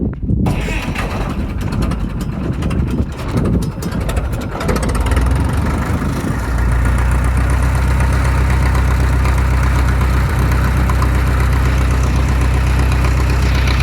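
Tractor engine cranking and firing with the choke pulled out and the throttle closed, then settling into a loud, steady idle with a low, throbbing rumble, recorded close by and without talk.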